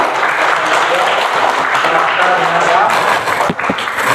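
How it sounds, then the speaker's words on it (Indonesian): A class of students gives a round of applause in a school lesson, a sustained busy clapping from a roomful of children with some voices mixed in throughout. "Mari kita tepukkan"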